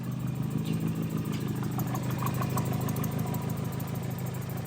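Mazda Miata engines idle together outdoors while warming up after leaving the garage, a steady low rumble holding throughout at moderate level with no talk.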